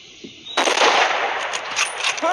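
A sniper rifle shot in the mobile hunting game Hunting Sniper cracks out sharply and loud, followed by a sustained rumbling echo that trails off over a couple of seconds.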